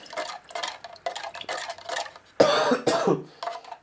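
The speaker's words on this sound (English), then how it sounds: "now that I just coughed" A woman coughs several times in short bursts while transplanting tomatoes, with a stronger, harsher pair of coughs near the end, close and alone.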